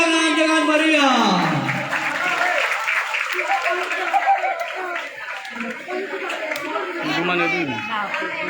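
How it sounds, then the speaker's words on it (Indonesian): An audience applauds at a Nias cultural performance, dense clapping mixed with crowd chatter and an amplified voice talking over it throughout. "Kita tepuk tangan dengan meriah"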